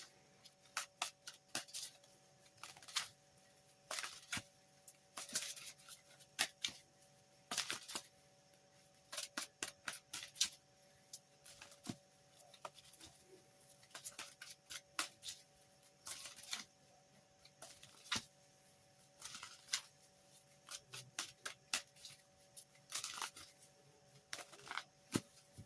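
Tarot cards drawn and handled close by make faint, sharp ticks, snaps and light shuffling clicks in irregular bursts over a quiet background with a steady faint hum.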